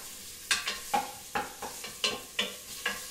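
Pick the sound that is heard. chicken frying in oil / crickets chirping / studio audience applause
chicken frying in oil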